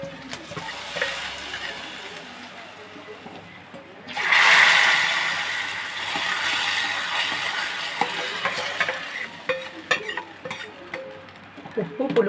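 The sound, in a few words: stirring tempering into a tamarind dish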